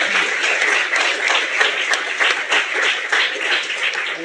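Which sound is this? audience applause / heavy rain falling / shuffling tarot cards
audience applause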